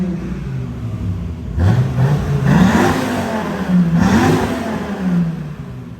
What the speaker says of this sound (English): So we're in the Viper. Yeah. I think we should give her a little revs.